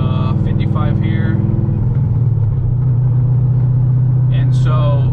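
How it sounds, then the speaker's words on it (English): A C6 Corvette fitted with an LG Motorsport exhaust accelerates through the gears in a steady, loud, close-up drone that drops pitch at a shift midway and then holds a deep rumble. "the exhaust that this car has is an LG Motorsport exhaust."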